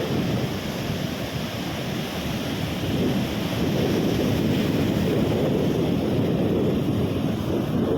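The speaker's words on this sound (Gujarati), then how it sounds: "મોટા મોટા મોજા આવે છે." Big waves crash on a stormy beach at Porbandar, Gujarat, India, a loud continuous roar of surf with wind buffeting the microphone and no voices.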